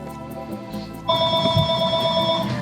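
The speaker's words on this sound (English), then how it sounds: "Gonna have to wait for my phone to stop." A phone starts ringing partway through, its repeated electronic ring loud and close over a murmur of room noise, with no talk over it.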